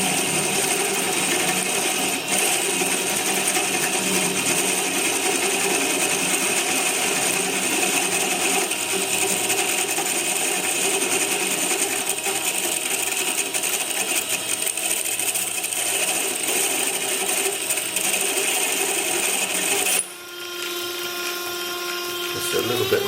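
A pillar drill in a home workshop runs at steady speed over a freshly drilled hole, giving a continuous mechanical whine and rattle that shifts tone sharply near the end as the bit catches, with a voice briefly under it.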